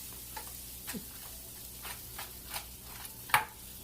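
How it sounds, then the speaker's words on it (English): A falafel panini grills in butter while its cheese melts, giving a soft, steady sizzle. Faint scattered crackles and pops sit over it, with one sharper tick near the end, quiet and close. "we are going to let that cook until the cheese is all bubbly and melty"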